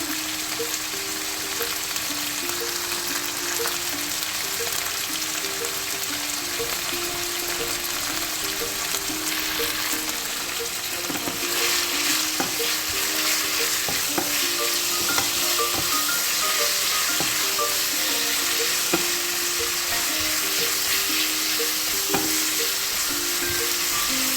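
Garlic frying in a pan for a noodle dish; a loud, dense sizzle holds steady from start to end, with a faint repeating tonal hum beneath it and occasional light taps of stirring.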